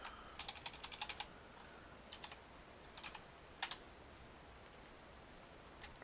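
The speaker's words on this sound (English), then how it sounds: "Let's type in build." Soft clicks of a computer keyboard being typed on in short bursts of quick keystrokes with pauses between, faint and close in a quiet room.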